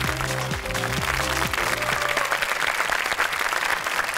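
Studio audience of a word game show clapping hard and steadily, with low musical tones sounding underneath during the first couple of seconds.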